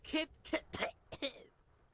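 A male character in the video game Disco Elysium says a short word twice and then coughs, a few sharp, close bursts over about two seconds.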